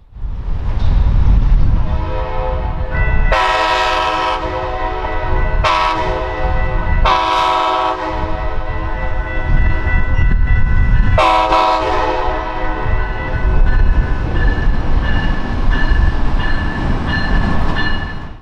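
A northbound Brightline train sounds its K5LA horn near the New River Bridge in South Florida, with several loud sustained chord blasts over the rumble of the passing train.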